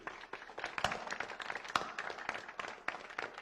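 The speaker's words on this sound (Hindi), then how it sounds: "चलो रवि के लिए तालियां।" A classroom applauds a student named Ravi with a quiet, uneven patter of hand claps from several people, with sharper individual claps standing out.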